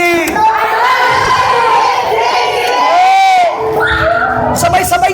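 A church congregation at a family camp pastors' seminar shouts and cheers together, a loud, dense roar of many voices with whoops rising and falling throughout.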